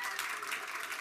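Brief, dense applause from a live audience at a children's stage show in a rotunda, a short steady burst of many hands clapping together.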